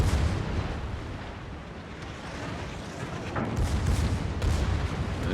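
Secondary guns on the ship Sinop fire in a naval battle game, a dense, continuous rumble of overlapping booms and cracks with a few sharper bursts near the end, loud and unbroken, with no talk.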